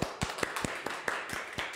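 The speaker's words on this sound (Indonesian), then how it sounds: "Tepuk tangan dulu guys." An audience claps at a talk-show episode about legal and government relations, giving a short run of scattered, fairly faint claps with uneven rhythm.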